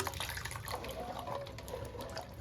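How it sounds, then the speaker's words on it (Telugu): Water splashes and trickles softly as small amla are rinsed, a faint, continuous wet sloshing with small drips. "వీటిని ఇప్పుడు నేను వాటర్ పట్టుకొని బాగా వాష్ చేసుకున్నాను"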